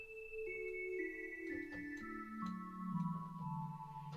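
Sustained pipe organ tones step downward in pitch, several soft flute stops including a 16-foot flute sounding together in smooth, breathy held notes with no voices.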